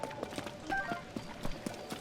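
Goats running in Zelda: Tears of the Kingdom, a rapid run of light hoof clip-clops in a steady trotting rhythm over a soft game ambience, with a faint voice in the background.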